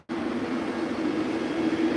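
Rush-hour train standing at a platform, a steady mechanical hum and rumble, moderately faint and continuous with no talk.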